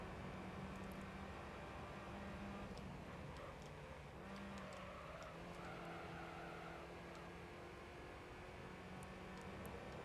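Race cars in the Gran Turismo 3 video game, a faint steady engine drone with shifting pitch and brief tire squeals under it, playing continuously at low level.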